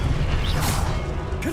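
Expelliarmus disarming spell cast in a Harry Potter video game, a dense rushing whoosh with mechanical, creaking texture that holds steady and ends in a brief swish.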